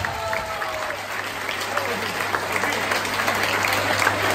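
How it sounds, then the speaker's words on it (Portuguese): A crowd at an outdoor village anniversary party in Agualva de Cima, Poceirão, applauds with a steady, dense wash of clapping that holds at moderate volume with a low hum underneath. "Uma grande salva de palmas!"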